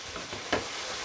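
Potatoes and cauliflower sautéing with spiced yogurt masala in a pan, a soft, even sizzle with one quick stirring scrape midway.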